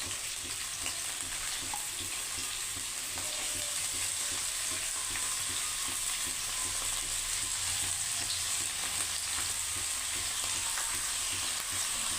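Garlic frying in well-heated oil for pirandai pickle, a constant close sizzle that runs steadily throughout with faint stirring scrapes and no talk.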